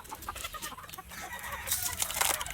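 A flock of chickens clucks busily and continuously at close range while being fed.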